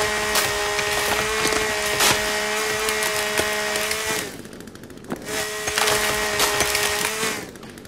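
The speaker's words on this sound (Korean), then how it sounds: "이것이 바로 전기톱의 위력" A chainsaw tears through wood in The Forest, a loud sustained buzzing whine with splintering crackle, cutting out briefly near the middle before roaring back.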